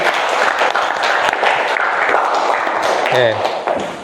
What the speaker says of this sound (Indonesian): Tepuk tangan dulu untuk Hasbi.